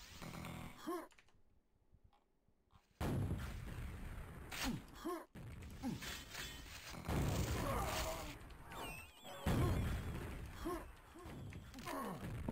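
Rocket fire in a professional QuakeWorld match, with repeated booming blasts and crashes in quick succession among other in-game noise, loud and close.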